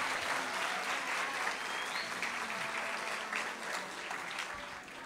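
An audience at a social organization's event bursts into dense, sustained applause that stays steady at moderate loudness and thins slightly in the last moments, with no speech over it.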